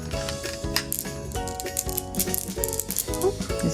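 Sparkly sensory marbles rattle and clink together in quick, irregular bursts, close and fairly quiet.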